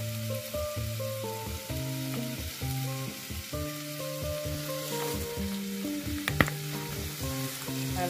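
Ingredients for cream of mushroom soup sautéing in a pan, a steady close sizzle and fry with stirring, no talking, while a tonal melody runs underneath.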